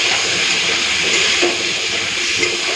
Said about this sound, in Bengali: এরপর আমি জল দিয়ে দিচ্ছি।